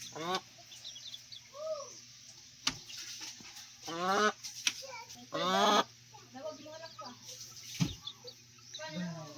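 Several chickens cluck and squawk close by in irregular bursts, with a few sharp knocks and faint voices mixed in.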